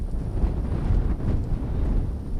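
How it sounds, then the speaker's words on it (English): A strong southeast wind gust buffets the microphone outdoors as a steady, low, roaring rumble that stays loud through the whole stretch, with no other distinct sounds. "Strong gust coming through out of the southeast."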